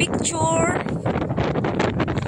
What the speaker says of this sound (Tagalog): kadungog mo sa hangin